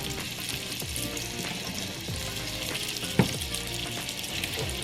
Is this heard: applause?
no